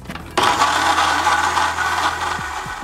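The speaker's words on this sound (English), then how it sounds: "Cap that off and blend until everything is integrated." A blender mixes a virgin strawberry daiquiri of lime juice, simple syrup, water and ice, starting abruptly after a quiet moment and running as a loud, steady whir until it winds down near the end.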